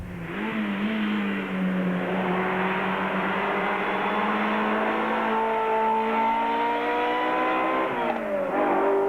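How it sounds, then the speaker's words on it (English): A Ferrari engine revs steadily from inside the open-top car, a loud, continuous, rising engine note that holds and climbs before dipping at a shift near the end, with no talking over it. "But all that unmistakable Ferrari noise too, listen to it."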